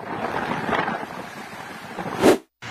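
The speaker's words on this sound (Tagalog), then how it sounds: "Sa kuha ni Elma Mariano, makikita ang pagbayo ng malakas na hangin at ulan sa barangay Balatubat sa Camiguin Island" Strong typhoon wind roars with rain and sea waves surging onto a coastal road on Camiguin Island, Calayan, Cagayan, a steady broadband rush that swells into a loud gust near the end before cutting off.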